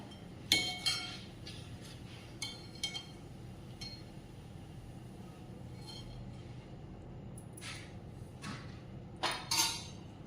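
A metal lid clinks onto a pot of moth bean curry (matki usal) on the stove, a few sharp close clanks separated by quiet gaps, with no talking.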